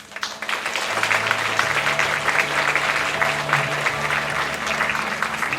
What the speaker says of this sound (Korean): 다시 한번 또 박수로 이렇게 감동해 주시면 감사하겠습니다